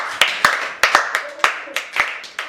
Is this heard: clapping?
yes